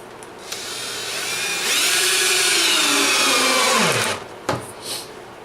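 A power drill drives 3-inch deck screws while a braced stand for a coal forge built from a stainless steel sink is put together. The motor whines up close, rises to a loud sustained spin for a couple of seconds, then winds down and stops.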